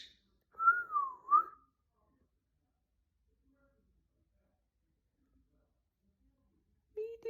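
A baby parrot gives a short, clear rising-and-falling whistle in two or three quick notes, close and fairly quiet. A brief voice follows after a silent pause.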